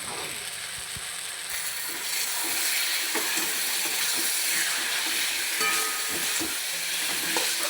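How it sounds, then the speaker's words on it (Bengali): Fried potatoes sizzling with spice masala in a pan, a steady close crackle broken by occasional stirring knocks and scrapes. "এরপরে আমি ভেজে রাখা আলুগুলো দিয়ে দিলাম।"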